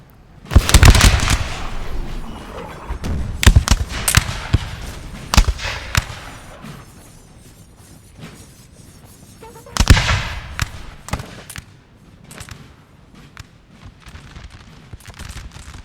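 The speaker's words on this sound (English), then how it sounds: "they just put a good volley into those Voltigeurs who are about to break" Infantry musket volleys in Napoleon Total War at the 1813 Battle of Hanau, sharp crackling bursts of many shots in ragged clusters, loud up close with scattered distant pops between the heavier volleys.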